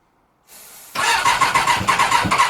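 A Suzuki GSX750F motorbike, stored for three years, with choke on and a fresh battery, cranks briefly, then catches into a rough, pulsing running note close by.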